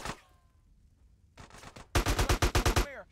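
Gunfire in Grand Theft Auto San Andreas comes as a single shot, then a short burst and a rapid string of loud automatic shots, close and clear.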